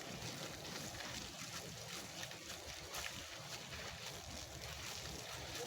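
A strong stream of water from a garden hose while cleaning a small home garden gives a steady, dense broadband rush, constant and close, with no pauses and no voices.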